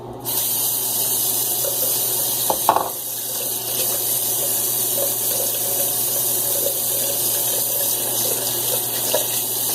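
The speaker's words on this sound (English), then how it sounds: "Get my brush wet. Shouldn't take much." Steady running tap water wetting a shaving brush for a head shave, a constant close hiss lasting throughout with a couple of brief knocks near the middle and no talking.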